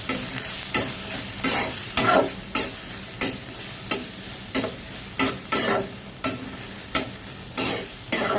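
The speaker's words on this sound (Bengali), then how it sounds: "কাঁচামরিচটা পেঁয়াজের সাথে ভাজা হয় সুন্দর একটা ফ্লেভার হয়" Sliced onion and green chilli fry in hot oil in a kadai for a vegetable tempering, a constant sizzle broken by regular, close stirring scrapes about every half second.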